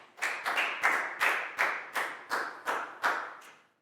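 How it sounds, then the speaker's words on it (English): Big round of applause for a pupil in a primary school classroom, heard as about nine sharp, evenly spaced clap bursts from a small group, fairly loud and close, with no talking over them. "Big round of applause for Pak Bung, please, guys."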